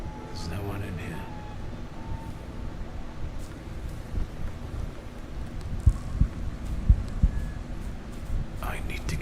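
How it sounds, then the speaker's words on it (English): Heartbeat in the video game The Thaumaturge: a few low, soft thumping pulses emerge late amid a dark, rumbling ambient drone, faint and muffled beneath the game's atmosphere. "heartbeat?"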